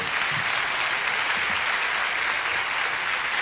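A studio audience at a radio comedy show applauds steadily, a dense, loud wash of clapping that holds evenly for the whole stretch with no voices on top.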